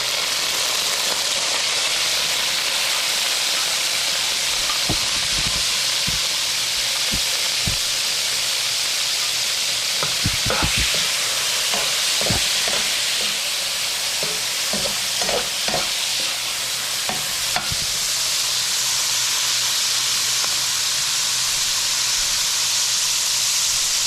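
Shrimp fry in a pan with a continuous loud hissing sizzle, broken midway by a run of spatula knocks and stirring scrapes, close by, no speech.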